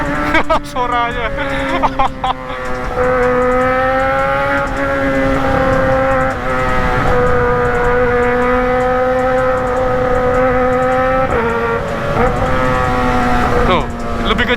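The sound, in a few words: Kawasaki ZX motorcycle exhaust revving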